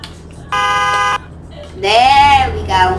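A new tow truck horn gives one steady, buzzy, half-second blast, then a louder honk that swoops up and down, with a shorter toot at the end.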